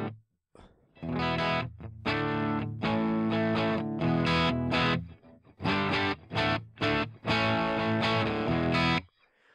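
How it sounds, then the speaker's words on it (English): Heavily distorted amplified electric guitar plays loud chords and riffs with stops and gaps between phrases, sounding thick and saturated through an effects unit. "I'm probably going to want a little more distortion than that."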